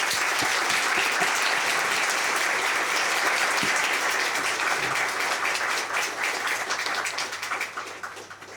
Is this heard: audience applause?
yes